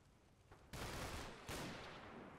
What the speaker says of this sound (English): It's the light firing going on.